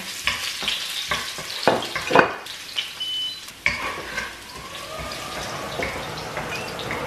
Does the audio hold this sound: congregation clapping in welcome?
no